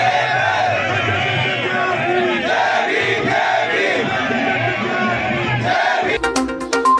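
A large, dense crowd at an Ambedkar Jayanti celebration in Pushkar's Ambedkar garden roars and cheers loudly and steadily, with voices chanting over the din before it cuts off abruptly near the end.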